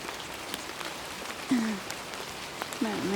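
Light rain pattering on a mountain trail in cold weather, a soft continuous hiss of drops with a couple of brief tonal squeaks or calls over it.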